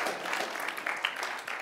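An audience claps together, a dense, steady patter of many hands at moderate volume that holds for under two seconds.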